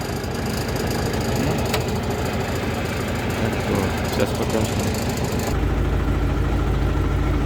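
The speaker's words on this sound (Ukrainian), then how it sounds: "Трактор йде дуже важко, звісно." A YuMZ tractor engine drones heavily and steadily under strain while autumn ploughing through alfalfa, loud and close, while someone speaks briefly over it.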